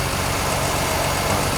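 A Mercedes W123 280E engine, just repaired after more than fifteen years off the road, idles steadily and loudly at close range on a hot day.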